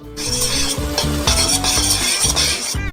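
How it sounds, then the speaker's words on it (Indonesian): Steady rhythmic scraping and stirring of caramel in a pot, with a sizzling hiss underneath, continuous and fairly loud. "Dan aduk."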